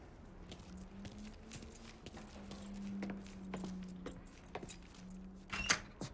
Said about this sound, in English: Keys in the other room. Grab them so we can get the hell out of here.